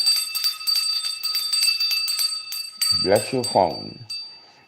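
A small hand bell rings repeatedly in bright, quick strokes, rung to bless a phone, and a voice speaks briefly over the ringing midway.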